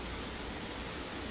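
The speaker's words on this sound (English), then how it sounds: "I don't know if you guys can hear it, but it's raining pretty good." Steady rain falls outside, heard as a dense, even wash of hiss without a break. It is fairly faint and continuous, with no voices over it.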